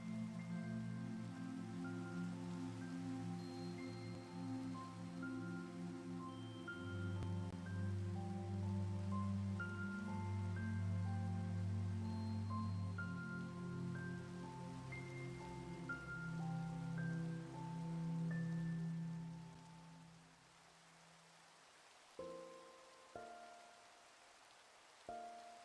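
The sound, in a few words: rain falling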